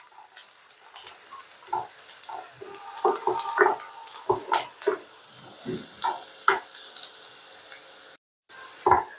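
Onion, dried chili and garlic frying in mustard oil for a beef kala bhuna, with a soft steady sizzle broken by scattered stirring scrapes and clatters and one brief dropout near the end.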